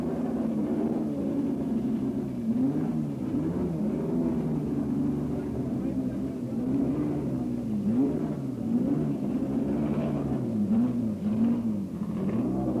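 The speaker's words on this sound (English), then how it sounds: "Ickx tries to demist his screen, and Nick sends them off to try the circuit in the wet." 1970s sports racing cars run on a wet circuit at the BOAC 1000 race, engines droning and rising and falling continuously at a moderate distance, with a muffled, low rumble throughout.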